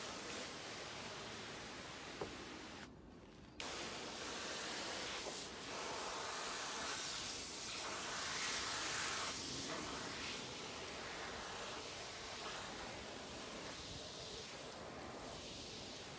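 A steady hiss of water spraying over a car's fabric soft top, fairly faint and continuous with a short break near the start and gentle rises and falls in the flow.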